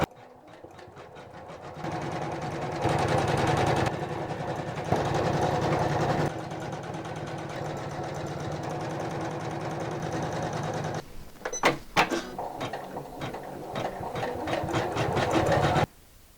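An embroidery machine stitches an Easter bunny design onto felt with black thread, a steady rapid mechanical whirring that runs continuously in sections, pausing briefly and shifting speed, close and fairly quiet.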